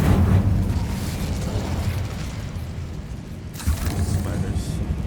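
In the Hogwarts Legacy video game, an Incendio fire spell is cast, producing a dense, roaring rumble that swells into a sudden burst partway through and keeps crackling afterward.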